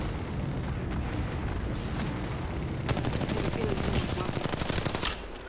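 Rapid automatic gunfire and heavy blasts fill a firefight in the Apex Legends Mobile beta, loud and dense throughout, with crisp repeated shots in the second half.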